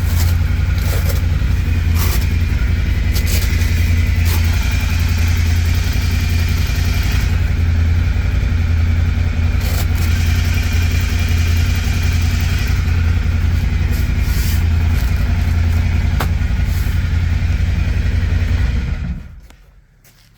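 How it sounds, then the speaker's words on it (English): An Intimidator UTV engine fitted with a heat and noise shield runs steadily at idle, a loud continuous low rumble that holds throughout before cutting off abruptly at the end. "it'll also help with some of the noise coming from the engine"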